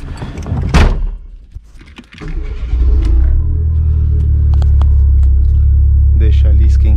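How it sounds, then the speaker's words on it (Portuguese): Turbocharged Chevrolet Celta engine revving up and then holding a loud, steady low rumble, with a door-like clunk and brief talk near the start. "Deixa eu ver o que acontece se eu acelerar aqui agora."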